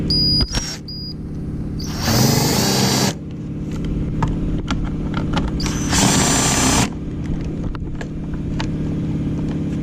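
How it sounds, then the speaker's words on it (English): Screw gun loosening the four airbox lid screws on a 2014 BMW R1200GS motorcycle, two loud whirring bursts of a couple of seconds each, close up, with light clicks and handling noise between. "Then I'll come in here with my screw gun. I will loosen these screws here."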